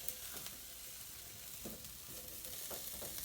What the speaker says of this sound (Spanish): ¿Asando carne dentro de la casa?